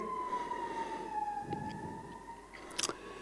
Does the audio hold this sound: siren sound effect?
yes